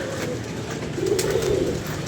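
Pigeons coo softly nearby, a low burbling call rising briefly over a steady background hum.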